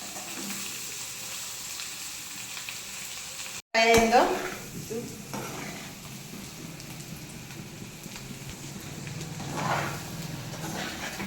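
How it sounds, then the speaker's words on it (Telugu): Eggs fry in oil in a pan for a garlic chili egg curry, with a steady close sizzle and stirring and a sharp louder crackle after a momentary dropout. "ఇలా ఫ్రై చేయాలి ఆయిల్ వచ్చేస్తుంది చూసారా"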